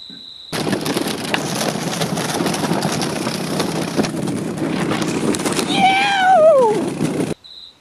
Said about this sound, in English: that was me being towed behind a quad bike that my daughter was driving while riding in a plastic container